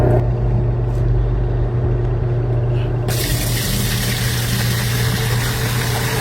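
Water pours into a washing machine tub for a test run, a dense, loud hiss with a steady low motor hum underneath that brightens partway through as the flow increases.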